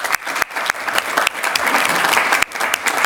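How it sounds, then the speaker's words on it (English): Applause for the panellists at the close of a Sustainable Energy Week session, a dense continuous round of clapping from the audience with a few brief dips, steady and fairly close. "have a brief round of applause for our panellists"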